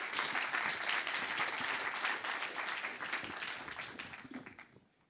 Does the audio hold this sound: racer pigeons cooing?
no